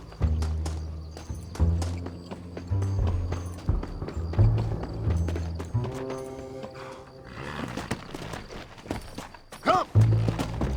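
Horse hooves clip-clop in the Red Dead Redemption video game, a rhythmic trotting beat over a music score, with a neigh or snort near the end and a voice calling out briefly.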